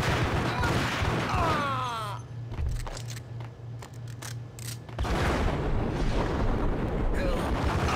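Dual pistols in Max Payne fire in rapid, dense bursts that echo loudly, with a short lull of scattered single shots before heavy gunfire and explosive booms resume. A voice speaks over parts of it.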